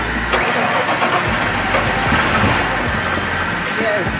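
A car engine cranks on a training workshop vehicle with a suspected fuel problem: loud, steady churning from the starter, close by and continuous through the moment, with people talking over it.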